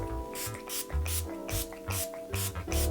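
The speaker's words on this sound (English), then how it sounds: "now I'm gonna spray my face, and I'm gonna use the Urban Decay All Nighter Setting Spray" Urban Decay All Nighter setting spray is pumped onto a face in a series of short, close hissing bursts, about seven quick sprays in a rhythmic sequence with faint clicks of the nozzle between them.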